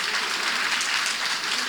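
Audience applause during a political speech announcing a presidential candidacy, a dense steady wash of clapping sustained and fairly loud throughout, with no voice over it.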